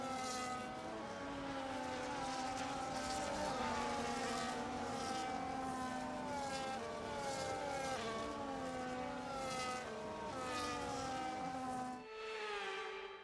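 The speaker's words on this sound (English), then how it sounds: "The formation lap gets underway and every driver will be looking to settle in for the race ahead" Formula 1 cars on the formation lap of the Saudi Arabian Grand Prix in a racing video game, running as a continuous layered engine whine with shifting pitches, steady and fairly close, then dropping off abruptly near the end.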